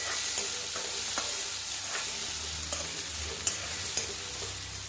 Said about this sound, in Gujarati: ગાર્લિક તતડી જાય એટલે એની અંદર ઓનિયન અને ગાર્લિક બેવું એડ કરી દઈશું